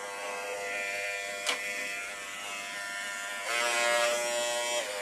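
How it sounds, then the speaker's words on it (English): Electric hair clipper running steadily while cutting hair, a constant close buzz with a brief click near the middle and a louder, slightly higher-pitched stretch toward the end as the blades work through hair. "The hair clipper has this button."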